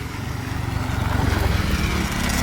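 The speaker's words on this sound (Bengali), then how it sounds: "বাইকাররা চলে এসছে বাইকের" Motorcycles ridden by a group of bikers pass at dusk along a quiet scenic rural road, a steady low engine drone that swells slightly toward the middle and holds, no talk.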